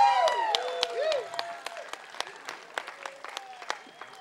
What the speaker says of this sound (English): I'd like for y'all to give a round of applause to my good friend Paula Willett